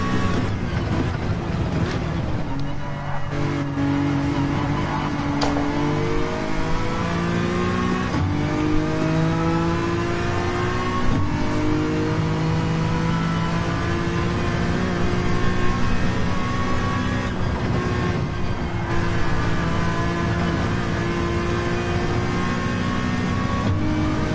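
A Subaru race car in Gran Turismo 7 revs through repeated gear changes, its engine pitch climbing and then dropping at each shift, loud and sustained throughout.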